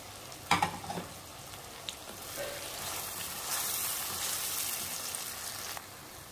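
Ginger paste masala stirred with boiled chickpeas in a pan, a steady soft sizzle with a few louder scraping clatters early on and a brighter hiss rising toward the end, no voices.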